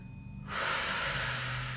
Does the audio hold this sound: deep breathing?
yes